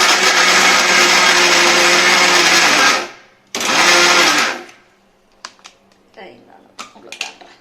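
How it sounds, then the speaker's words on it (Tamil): A mixer grinder pulverising a peanut, sesame and jaggery ladoo mixture: two loud, dense whirring bursts of about three seconds and one second, then quieter clicks and rattles as the jar is handled. "அந்த தூளெல்லாம் எடுத்து இப்போ கிரைண்ட் பண்ண போகிறோம்."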